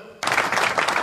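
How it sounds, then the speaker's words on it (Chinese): Applause breaks out abruptly from a live audience during a Cantonese stand-up comedy livestream, a dense wash of clapping that starts after a brief quiet moment and holds steady and loud to the end. "掌声一下！"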